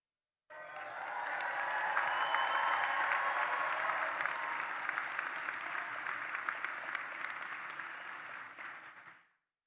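Applause for law school graduates at a college commencement ceremony, a crowd clapping that starts abruptly, holds steady for several seconds and then fades out quickly.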